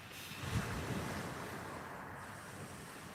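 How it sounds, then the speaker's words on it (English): Ocean waves roll and crash onto a beach as the tide comes in, a steady broadband wash of surf mixed with wind rumble on the microphone and no voices. "Hear them waves starting to crash in as they come up that beach."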